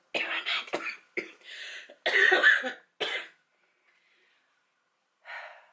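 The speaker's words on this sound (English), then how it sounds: "right now it's just an irritating cough" A person coughs repeatedly in a series of harsh bursts, followed by a pause of near silence and one final short cough.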